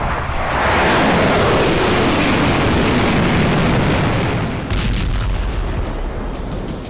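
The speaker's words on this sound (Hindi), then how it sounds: "बताया जा रहा है कि रूस का एक गाइडेड बम खार्किव के आसमान को चीरते हुए इस बिल्डिंग पर आ गिरा।" A Russian guided bomb blast hits a building in Kharkiv, heard as a loud, sustained, rumbling roar that fills the whole clip with heavy low-frequency force and no voices.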